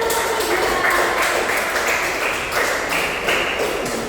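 A classroom group claps together in steady, dense applause for several seconds at fairly close range, with no voices over it.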